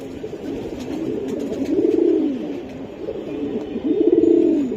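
Giribaz pigeons coo nearby in two clear, rolling coos spaced a couple of seconds apart over a low background hum, with no talking.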